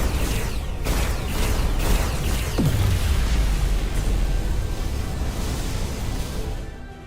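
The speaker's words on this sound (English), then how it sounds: "Dilithium explosion." Dilithium crystal explosion in the Star Trek Resurgence video game, a loud sustained roaring rumble with a deep falling boom partway through, fading toward the end.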